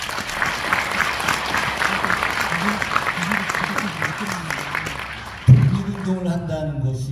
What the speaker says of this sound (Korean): 박수 한번 좀 치시죠.